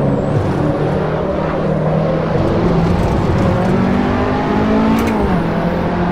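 A KTM car in a driving sim video game revs hard with a loud, continuous engine whine that rises and drops in pitch through gear changes, with constant road and tyre noise underneath.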